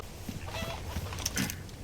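A chicken in the video game Resident Evil 4 Remake gives a few soft clucks, faint and brief over low game ambience.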